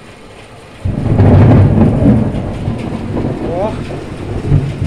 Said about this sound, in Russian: Как будто что-то взрывается, хотя это сильно так молнии грохочут.